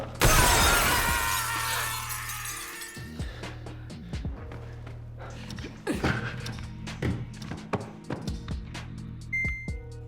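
Glass bridge panels in a film's deadly crossing game burst apart in one loud shattering crash, followed by scattered clinks, thuds and a low electronic hum as the debris settles.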